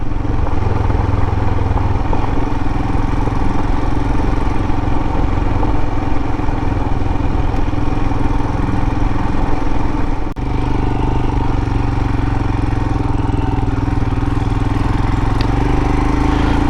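A Royal Enfield Himalayan motorcycle rides over gravel, its engine droning loud and steady up close, with crunching and rattling from the loose stones.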